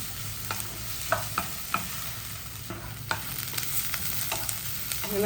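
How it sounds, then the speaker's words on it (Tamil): Dried shark fish sizzling in a pan with garlic and green chillies while being stirred, a steady frying crackle broken by scattered scraping clicks of the spatula, close and moderately loud, with no talking. "நல்லா வதங்கிட்டு இருக்கு"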